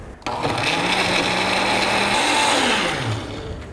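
A blender whirs loudly and continuously nearby as it chops leafy greens and their stems, its motor pitch climbing slightly partway through and then easing down near the end, with no voices.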